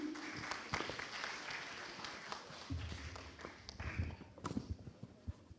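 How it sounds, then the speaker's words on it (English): Scattered, fairly faint applause from a conference audience at an international economics and business event, light claps with some shuffling and movement in the room. "Give applause, everyone."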